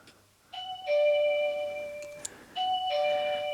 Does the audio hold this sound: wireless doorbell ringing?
yes